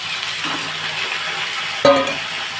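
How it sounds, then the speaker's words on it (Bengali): Potatoes go into hot oil in a pan where green chilies were just tempered for aloo posto, a steady broadband sizzle with a sharp clatter and brief louder burst as they drop in near the end. "আমি এবার আলুগুলো দিয়ে দিচ্ছি"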